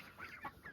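A goose at a backyard duck pond gives a few quick, nasal honks, faint and close-ish, with soft outdoor ambience and other fowl around.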